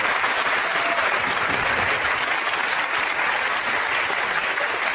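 A television talk-show studio audience breaks into sustained applause, a thick, loud, unbroken roar of clapping hands that holds steady for five seconds.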